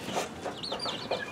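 Soft, quick clucking from a hen and her chicks nearby, a few short murmured calls mixed with faint high chirps.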